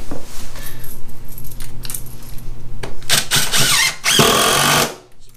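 Power drill driving screws into a plywood subfloor, several loud whirring bursts of motor and screw bite, the longest near the end, with clinks and handling noise between, no talk.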